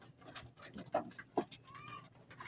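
Pigeons in a loft, where a hen has laid eggs, make soft cooing calls with a few sharper coos and light rustling and tapping, heard fairly close and quiet.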